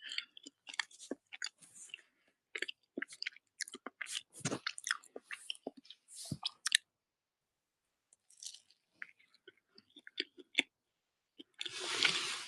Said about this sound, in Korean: 지금 이렇게 라이브로 먹방하는 거예요